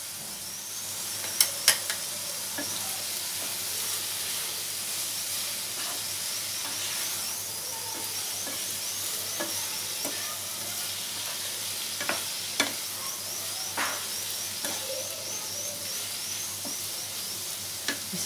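Turmeric, salt and red chilli sizzling and being stirred in hot oil for a chana dal tadka, a steady frying hiss with occasional sharp spatters and utensil scrapes throughout.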